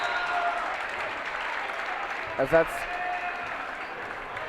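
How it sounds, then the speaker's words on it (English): A loud high school basketball crowd roars and applauds in a gym as the game starts, a dense continuous wash of cheering with a commentator talking over it. "Both teams' crowds getting very loud."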